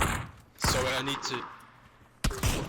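Bursts of video game gunfire from AK47 and Kar98k rifles crack and rattle at close range, with voices talking between shots.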